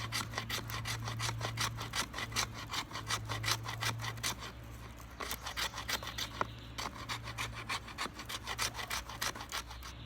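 The spine of a Condor Terrasaur bushcraft knife in 1095 steel scraping along wood in quick rhythmic back-and-forth rasps, close and steady in several runs with brief pauses, over a low steady hum.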